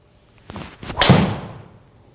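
A single solid strike of a golf driver on a ball at a fitting session, heard as one sharp, close impact with a short bright ring-out and no other sound around it.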